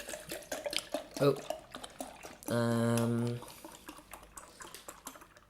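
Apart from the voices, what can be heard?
pouring pineapple juice into a punch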